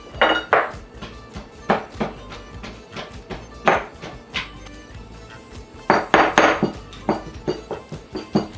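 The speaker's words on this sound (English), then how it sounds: "I will crush the garlic in the mortar and I will sprinkle it with coarse salt, better traction" Garlic crushed with coarse salt in a mortar and pestle for Georgian shkmeruli, heard as irregular close knocks and gritty grinding clinks against the bowl, some louder strikes in clusters.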